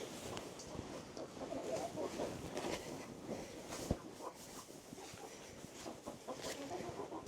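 Hens cluck and murmur inside a winter coop, a steady busy chatter close by with occasional sharper calls and rustling, and a faint voice now and then beneath it.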